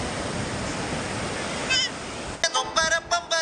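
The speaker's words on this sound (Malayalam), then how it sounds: "കടൽ കടൽ" Sea surf washes continuously onto a beach as a broad rushing roar, then drops away as short bursts of music or voice cut in over the last second.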